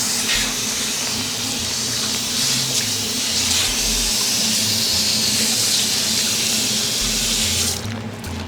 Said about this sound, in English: I got stuck washing my hands